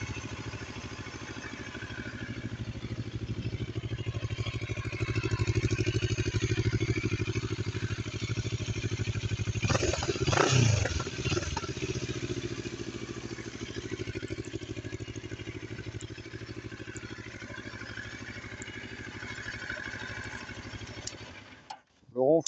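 A Moto Morini 649 X-Cape idles with a low, steady engine rumble close to the microphone. It swells slightly midway, with a brief clatter near the middle and faint wind noise throughout.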